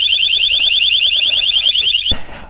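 A loud, piercing 120 dB electronic alarm siren on a motorcycle disc lock warbles continuously at close range, then cuts off abruptly with a thud.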